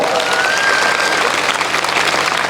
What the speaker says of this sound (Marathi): एकदा स्टेजवरच्या सगळ्या मान्यवरांसाठी जोरात टाळ्या वाजवा